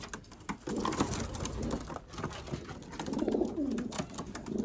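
A tumbler pigeon coos in soft, throaty rolling phrases close by, over a low background with faint rustling.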